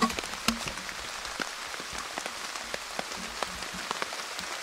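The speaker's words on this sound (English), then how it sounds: "Just rain." Steady rain patters on a tarp shelter over a hammock camp, with scattered sharper drops hitting the fabric throughout.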